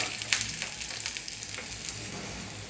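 Close, continuous sizzle of curry leaves added to hot oil after mustard seeds have popped, with crackling and a few small pops, steady and fairly soft, no voices.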